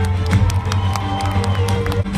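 A crowd claps and cheers for a stunt show team from Malta, sharp overlapping claps over a steady low engine drone, loud and close throughout with no clear speech.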